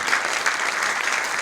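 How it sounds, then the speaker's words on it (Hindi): Steady, loud applause from a crowd at a Hindi poetry gathering (kavi sammelan), continuous clapping without a break. "तालियां बजाइए"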